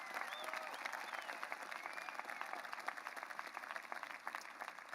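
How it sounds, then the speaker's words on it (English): Sustained applause from a large stadium crowd at a university commencement, honoring armed forces members, with dense steady clapping and cheering throughout. "Let's have a round of applause for those men and women as well"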